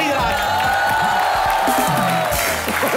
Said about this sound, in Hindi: आज सिद्धू साहब के लिए ठोको ताली जरा।